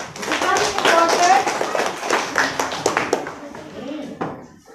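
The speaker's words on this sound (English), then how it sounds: "Okay, a round of applause." A group of people in a classroom gives a round of applause: dense, even clapping that swells and then thins out over several seconds.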